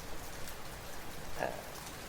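Steady rain falls as a soft, even hiss with scattered drops pattering throughout, faint and continuous, with no voices.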